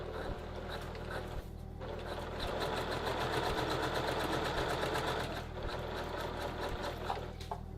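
Sewing machine stitching a trouser welt, a faint steady mechanical hum with a regular low thump throughout, continuous and without talk.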